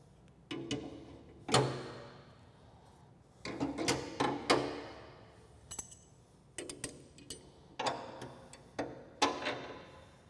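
Metal bolts on a UTV snow plow bracket assembly being tightened with a ratchet or wrench, giving scattered bursts of clicking and clinking at close range, with short pauses between turns and no talk.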